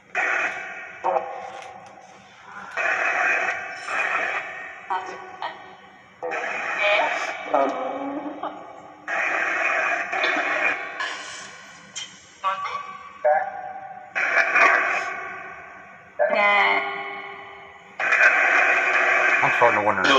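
A Necrophonic spirit box app sweeps through radio stations, producing choppy bursts of chopped broadcast fragments and static that cut in and out in short segments, loud and close.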